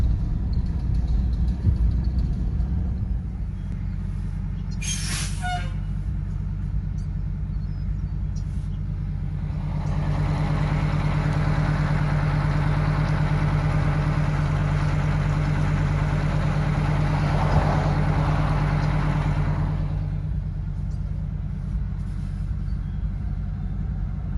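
An old cabover truck, left sitting for 27 years, runs with a steady loud engine drone, then revs up and holds higher for several seconds before settling back, close by with no voices.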